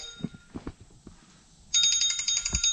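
An incoming call sets a phone ringing partway through. Its bright, repeating electronic tones burst in loudly and continue to the end, after a few soft thumps and taps.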